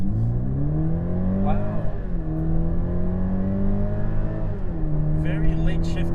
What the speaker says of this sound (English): We're going to launch it now, and we're going to start off with Comfort